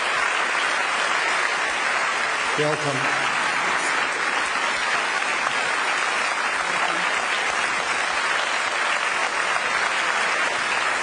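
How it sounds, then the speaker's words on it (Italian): Broad, continuous audience applause at the Cogs n Kiwi telethon, a steady wash of many hands clapping throughout, with a brief spoken greeting near the start. "Grazie mille di questo applauso"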